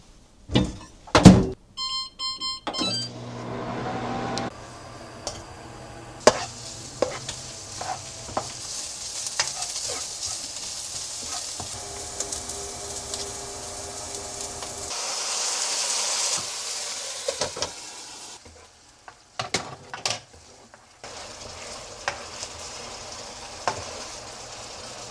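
Whole grain mustard sauce stirred for spreading on bread in a home kitchen, with repeated soft scraping and clinking strokes at close range, scattered thunks, and a steady hiss in the background.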